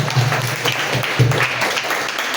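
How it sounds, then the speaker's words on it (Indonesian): An audience at an Indonesian game developer conference applauds in a dense, steady burst of clapping that fills the whole moment, with a low hum underneath. "Tepuk tangan untuk Indonesia."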